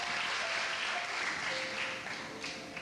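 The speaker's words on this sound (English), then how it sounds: "applause for him" An audience applauding a speaker at a personal talk, a continuous wash of clapping that stays loud and slowly fades toward the end.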